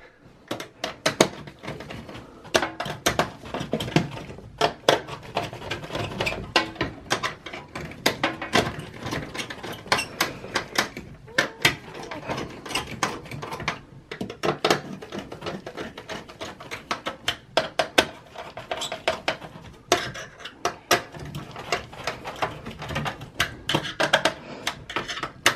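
Heatsink being fitted back onto the board of an HP Compaq Pro desktop, a dense run of close metallic clicks, ticks and small ratcheting taps continuing without pause and no talk over it.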